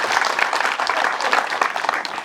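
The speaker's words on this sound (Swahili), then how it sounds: "Pigia huyu mzee makofi" A church crowd at a thanksgiving and homecoming celebration applauding an old man, a dense continuous patter of many hands clapping at moderate distance, with a faint murmur of voices underneath.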